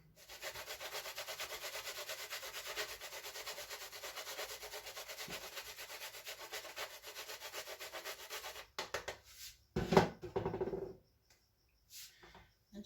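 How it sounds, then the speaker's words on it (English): A hand grater scraping pieces onto protein ice cream, with quick rhythmic rasping strokes close by for several seconds, followed by a few scattered knocks and clatters. "I'm going to just take the grater, just grate some pieces on top."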